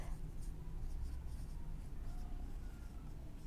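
An answer to a maths problem being written by hand, probably with a pen on paper or a tablet: a soft, steady scratching and scraping of strokes, faint and close, with a little speech.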